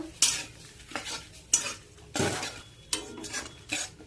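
A spoon stirs dry chilli powder and spices into vegetables in a cooking pan, making a series of close scraping and rustling strokes with a faint sizzle underneath and no talking.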